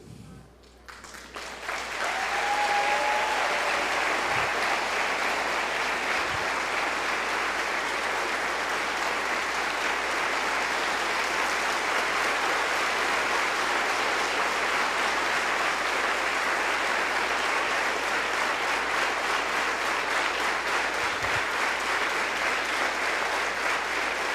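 Loud, dense applause from a church congregation rises within the first couple of seconds and then holds steady and continuous, with no speech over it.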